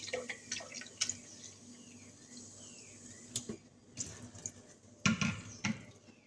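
Water trickles and splashes irregularly into a pot nearby while making mango juice, with scattered drips and a few louder pours, no talking.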